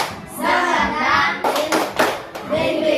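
A classroom of children doing a rhythmic spirit clap together, with sharp clustered hand claps breaking through sung or chanted young voices before a presentation.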